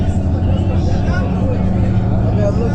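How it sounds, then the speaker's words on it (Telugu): A double-decker bus passes in busy road traffic, a steady loud engine rumble with heavy low-end drone that stays constant throughout, mixed with surrounding vehicle noise and a faint background murmur of voices. "double bus"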